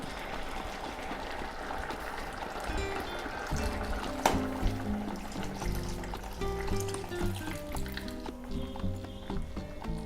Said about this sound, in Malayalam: 1-ാം പാൽ ഒഴിച്ചു കൊടുക്കാം